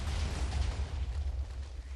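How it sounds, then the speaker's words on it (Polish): A burst of TNT in the Minecraft video game sets off a dense, roaring explosion. The rumble stays loud and sustained for two seconds with no speech. "zobaczmy, czy się TNT podpali"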